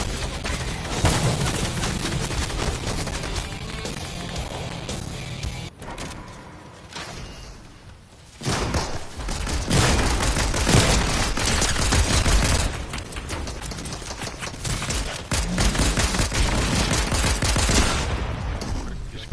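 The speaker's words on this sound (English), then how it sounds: "someone's shooting me!" Gunfire aimed at the player in a Fortnite trios match: dense, loud bursts of shots and rapid volleys with game effects running throughout, briefly dropping off midway before the shooting picks back up, while players talk over it.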